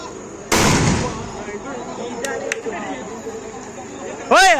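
An auto bomb firecracker goes off at a Ganesh immersion procession with a single loud, close bang. Crowd noise and voices follow, and a rising horn-like wail comes at the end.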